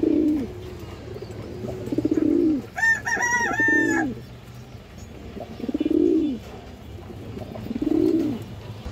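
Domestic pigeons in a loft give four low, rolling coos at a steady pace, with a brief higher call in the middle, close and clear with no speech.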